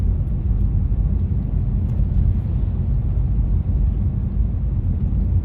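A car drives along Moston Lane East at around 30 mph on a bending road, producing a steady low rumble of engine and tyre noise throughout, with no talking.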